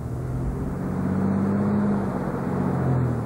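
An executive car's engine strains steadily as it climbs a big muddy hill out of a gully, a loud low rumble that swells gradually with rising revs and holds close throughout.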